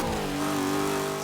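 Camaro Z28 engine in Forza Motorsport 5 revving steadily with a sustained, rising mid-pitched drone, loud and close with no talk over it.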